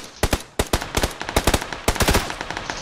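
Rapid bursts of automatic gunfire from a PUBG battle royale match, several sharp volleys of shots in quick succession with short gaps between, loud and close, with no voices over them.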